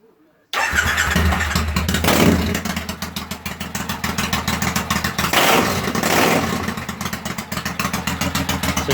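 A Triumph Bonneville motorcycle engine, running with only one side firing, cranks briefly and then catches. It runs loud and close with a rough, rapid pulsing beat and revs up and down a couple of times.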